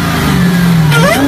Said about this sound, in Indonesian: supercharger